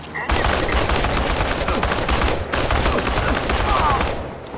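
Rapid, loud automatic AK rifle fire in the video game Chernobylite, a dense continuous burst with a brief break midway before firing resumes, then tapering off.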